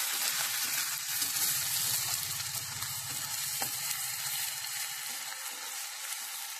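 Garlic and ginger paste fries in a hot pan of oil, a steady loud sizzle with soft bubbling. A brief stirring scrape runs under it, and no voice is heard.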